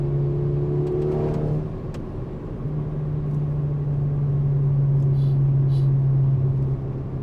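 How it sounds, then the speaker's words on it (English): Retuned Volkswagen Golf R Mk6 with a Unitronic tune, its exhaust droning steadily as the car accelerates, a loud, close, continuous engine hum that dips briefly and then swells again. "sound really good with its exhaust"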